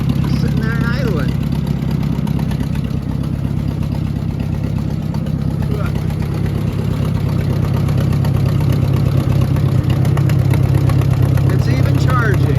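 Oliver 504 tractor engine idling steadily nearby, a continuous low rumble with an even putter that holds constant throughout, with faint voices in the background.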